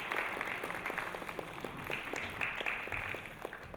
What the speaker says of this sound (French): On va encore les applaudir une fois vivement,